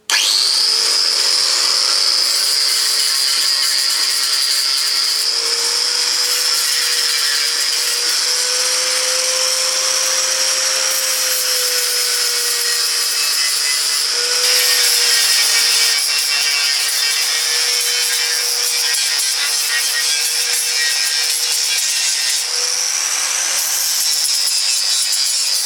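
A power tool works steadily over cut holes in metal, taking the burrs off about 150 drilled holes during a motorcycle project build; a continuous high whine and grinding rasp runs unbroken with slight pitch shifts, close and loud, with no talking.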